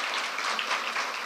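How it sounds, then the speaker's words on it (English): An audience at a registered nursing pinning ceremony claps steadily, a thick, even patter of many hands with no voices over it. "Let's keep it clapping"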